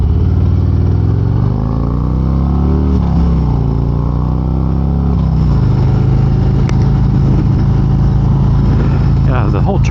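A Harley-Davidson motorcycle riding out onto the highway, its engine a loud, close, continuous rumble that rises and falls through gear changes, with wind noise and talking over it.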